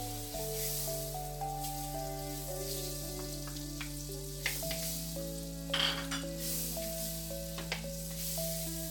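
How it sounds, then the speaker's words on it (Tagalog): Butter sizzles in a preheated wok, a soft steady hiss with a few crackles and pops, heard beneath prominent background music and without talking. "sa ating preheated wok, ilalagay natin yung ating butter."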